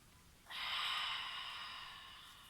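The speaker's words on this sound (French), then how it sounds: "On inspire avec le nez." One long, close breath is drawn in through the nose during a beginner Pilates exercise. It starts abruptly with a hissing airflow, then slowly fades out over about two seconds, with no talking.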